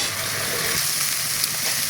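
Onions frying in a pan for a mixed-fish curry, a steady dense sizzle of hot oil that stays loud and even throughout, with no voices.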